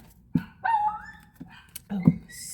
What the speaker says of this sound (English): that's how that one dog barks whenever he's excited